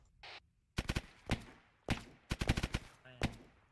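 Bursts of machine gun fire in a tactical military shooter, rapid cracking volleys in several clusters with short gaps between, loud and close, separated by brief pauses.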